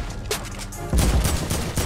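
Gunfire bursts in a Fortnite Battle Royale match, loud rapid shots near the start and then a dense heavy volley through the second half, with no speech.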